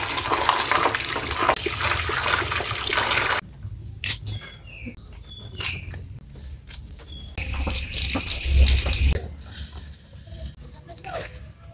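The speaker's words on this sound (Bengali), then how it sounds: "কালকে রাতে এই যে ভাতগুলো এখন ধুয়ে নেবো" Leftover cooked rice is washed in water: a loud stream of tap water runs at first, then gives way to intermittent sloshing, splashing and swirling in a pot, with brief bursts of running water returning.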